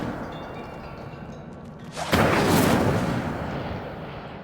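An Incendio fire spell cast in Hogwarts Legacy erupts with a sudden loud burst of roaring flame partway through, following a quieter ambient stretch, then sustains a thick whooshing rumble before easing slightly.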